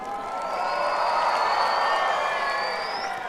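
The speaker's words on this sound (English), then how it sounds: "let's give Odlem the loudest cheer" A large crowd at a youth peace dance event cheers and whoops together in one sustained roar, steady and loud throughout.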